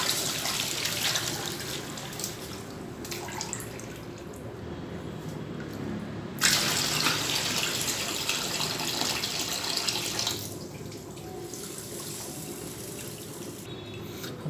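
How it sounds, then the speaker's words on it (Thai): Rice being rinsed clean under a running kitchen tap, a steady, continuous rush and splash of water with shifting swishing as the grains are washed, loud and close throughout. "ต้องล้างมันสะอาด"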